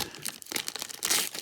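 Foil wrapper of a 2002 Topps Series Two jumbo baseball card pack crinkles and tears in short close bursts as it is worked open, with a louder rip near the end.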